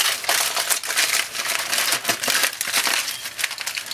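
Aluminium foil wrapped around a fish fillet being folded up close by, a continuous burst of crisp crinkling and crackling with no talk.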